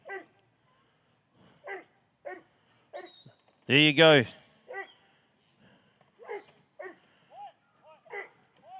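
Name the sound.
sheepdog (eye dog) barking at rural games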